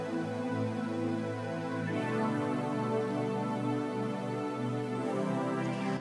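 Sustained synthesizer pads from a mixed song, thick layered chords holding steadily with a change of harmony near two seconds, smooth and continuous without voices.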